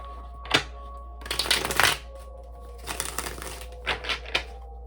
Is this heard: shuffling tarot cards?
yes